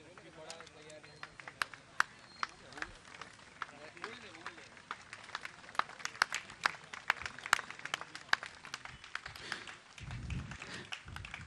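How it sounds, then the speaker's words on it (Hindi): Applause from an audience at a Jain religious gathering, sharp irregular claps scattered across the whole stretch and growing denser near the end, with talk underneath. "आप लोग तालियां बजाइए, इस परिवार का सम्मान का क्रम चल रहा है।"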